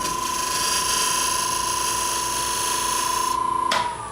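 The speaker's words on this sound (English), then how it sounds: "use the skew and just take off, just shaving just a tiny little bit" A skew chisel shaves a wooden lidded box on a spinning lathe, giving a steady, loud whirring hiss with a high whine that holds for several seconds before cutting off near the end.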